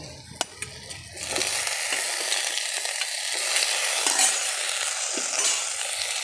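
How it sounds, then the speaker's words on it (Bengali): Steamed potatoes go into a pan of frying ground spice masala: a couple of knocks and clatters, then a loud, continuous close sizzle with faint stirring scrapes underneath. "ভাপ দিয়ে আলুগুলো দিয়ে দেব।"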